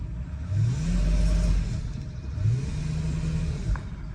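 A 2006 Mercedes CL600 engine with a failing transmission revs and strains in two long surges, whining as it climbs, with a low rumble underneath and no speech.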